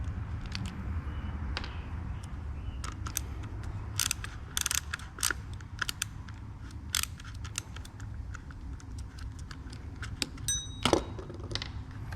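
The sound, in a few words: unscrewing and taking apart a 200T chainsaw handle cap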